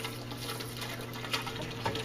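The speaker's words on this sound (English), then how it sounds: "right now the excess water not going through the system is pumping right back in" A small 1,200-gallon pump returns excess water into an aquaponics system, producing a steady low hum under continuous splashing, trickling water, close and moderately quiet with a few faint drips.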